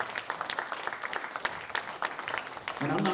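A school event audience breaks into applause, a steady patter of clapping that runs throughout. A speaker's voice comes through over it.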